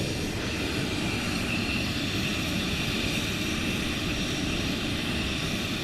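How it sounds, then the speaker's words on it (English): F-15E jets take off with afterburners at RAF Lakenheath during a morning surge launch, a loud, continuous broadband roar that holds steady across the whole stretch with no talking. "But the C's don't have to use afterburners, which are the ones you're looking at now."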